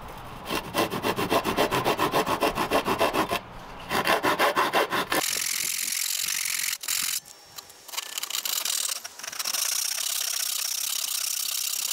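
A rabbet is cut into a wooden board with brisk, rhythmic saw strokes that rasp close by. After a short pause the sawing turns into a steadier, higher grinding scrape that runs on with a few brief breaks.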